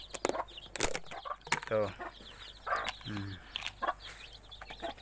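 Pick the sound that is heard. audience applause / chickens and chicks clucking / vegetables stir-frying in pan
chickens and chicks clucking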